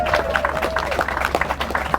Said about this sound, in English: Now give them a round of applause, ladies and gentlemen.